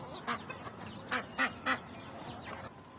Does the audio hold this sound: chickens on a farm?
yes